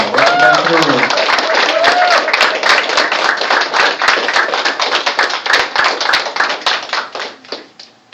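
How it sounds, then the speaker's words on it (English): A hall of fame audience in Florida claps for inductee Don Cogswell: brisk, loud hand claps with a voice at the start, then the applause thins into scattered claps and fades. "If we could please give a nice round of applause for inductee Don Cogswell, right in the back of the room."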